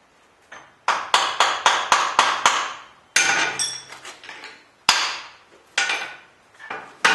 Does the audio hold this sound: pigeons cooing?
no